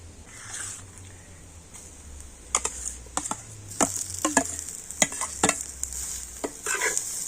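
Boiled potatoes being stirred with fried vegetables in a pan, a soft sizzle underneath a series of scraping spatula strokes that come irregularly and grow busier toward the end.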